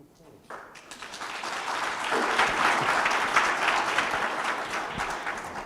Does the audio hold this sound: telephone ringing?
no